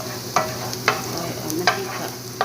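Garlic fries in olive oil to a steady close sizzle, broken by four or five sharp scraping stirs of a utensil against the pan at fairly regular intervals.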